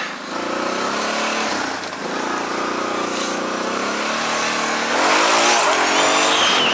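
A quad bike engine revs hard and loud while the machine climbs a hill, its droning roar rising and surging near the end of the climb, with no talk over it.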